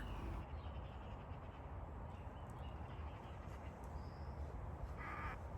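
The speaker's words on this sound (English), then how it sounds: "the birds in the reed beds" Crows caw a few times in the distance over a steady low outdoor rumble, with faint scattered bird calls from reed beds beside a canal in the morning.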